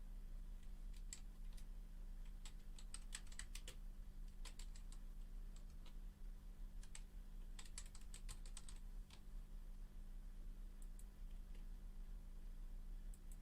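Typing on a computer keyboard while entering a name as text in 3D animation software, with scattered bursts of quick key clicks and brief pauses over a steady low background hum, no voices.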